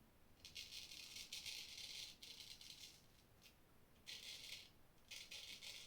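Close, crisp rasping of a Filly14 Imperial straight razor shaving whiskers, with repeated scraping strokes separated by brief pauses, quiet and steady with no talking.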